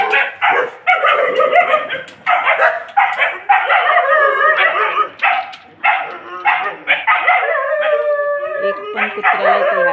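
A dog barks, yips and howls in repeated loud bursts close by, its cries rising and falling with short pauses between them.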